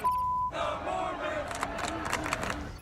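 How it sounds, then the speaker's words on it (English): Arena crowd in the United States chanting, rhythmic massed voices starting abruptly after a brief electronic tone and pulsing in repeated bursts. "Crowds at various arenas across the United States have been chanting blank the Mormons."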